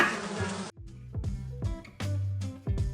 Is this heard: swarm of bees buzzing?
yes